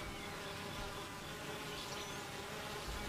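A hive of honey bees hums in a thick, unbroken buzz of wings fanning to cool the colony, near and constant from start to finish, with no talking.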